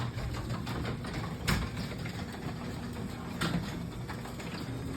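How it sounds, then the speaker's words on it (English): A worn garage door with bad rollers and failing hinges runs on its opener with a steady mechanical rumble, broken by two sharp clanks or pops about two seconds apart. No one speaks. "All that clanking is your rollers are bad. All that popping is your hinges."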